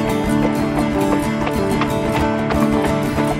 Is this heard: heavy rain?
no